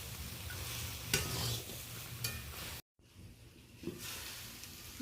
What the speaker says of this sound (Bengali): তো এইটা ভালো করে আমি মিশিয়ে নিচ্ছি।